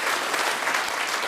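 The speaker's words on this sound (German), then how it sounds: "Das ist dein Applaus." A dense, steady burst of audience applause fills a TV studio at the finale of a Swiss farm-women cooking show, loud and continuous with no clear talking over it.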